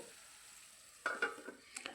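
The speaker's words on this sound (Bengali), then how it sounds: "আলুটাকে আগে দিয়ে অল্প সময় ঢাকা দিয়ে আমি এটাকে ভেজে নেব" Potatoes frying in a pan, a faint low sizzle that gives way to a few brief stirring scrapes and clinks, close and quiet with no talking.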